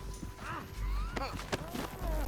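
Horse hooves clip-clop in the Red Dead Redemption 2 video game, a few steps under voices and other game sounds amid a whinny-like cry, close and moderately loud.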